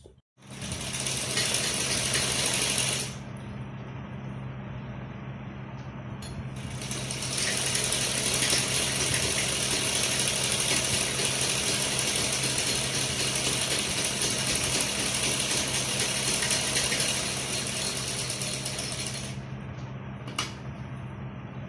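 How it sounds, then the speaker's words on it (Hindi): A sewing machine stitches the side seam of a salwar, a fast continuous mechanical whirring and clatter near the microphone, pausing briefly between bursts before running steadily again, with no talking. "इसी तरह से हम दूसरी साइड भी सिलाई कर लें।"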